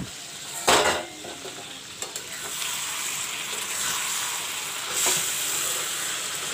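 Chicken pieces sizzle and fry with masala in hot oil in a pan, a steady close crackle with a few sharper utensil clinks and stirring bursts.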